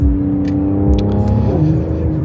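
A twin-turbo car engine pulls hard under throttle with a steady, loud droning growl that shifts pitch slightly partway through, close up and with no talking.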